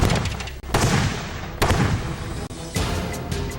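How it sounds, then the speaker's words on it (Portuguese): Explosions from a sonic cannon being tested, heard as loud, booming blasts in repeated bursts, each one a harsh roar followed by brief gaps. "Após algumas explosões"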